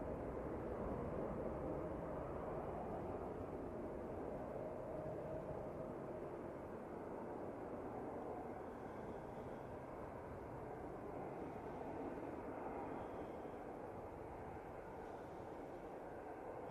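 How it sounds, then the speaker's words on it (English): An EasyJet airliner departs Manchester Airport for Reykjavik: a steady, broad jet roar holds at an even level for the whole stretch, with no voices over it. "This EasyJet is off to Reykjavik."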